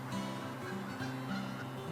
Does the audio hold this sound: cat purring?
no